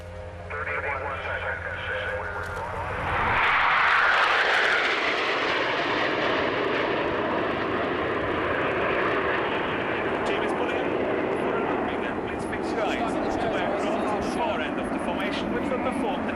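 Swiss Air Force Patrouille Suisse jet formation making the opening flyby at RIAT 2006, a roar that swells sharply around four seconds and then holds as a broad, sustained rushing jet noise, with an announcer speaking over it.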